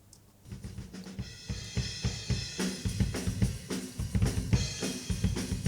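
Close-miked drum kit plays a steady groove, punchy kick and snare hits under bright, washing cymbals that swell louder midway, full and upfront with no voices.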